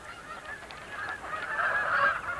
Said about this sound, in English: Canada Geese. Honkers.